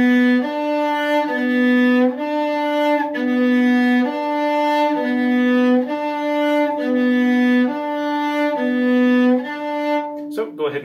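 A cello plays a Suzuki Book 3 positioning etude, a steady line of sustained bowed notes moving between first and fourth finger with shifts, clear and alone before a brief noise at the end.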